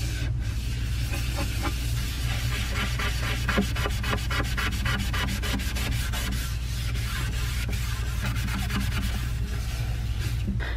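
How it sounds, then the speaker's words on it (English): A magic eraser scrubs a classroom surface in steady, close, continuous rubbing strokes with a hissy texture that lasts throughout. "this magic eraser is working like amazingly"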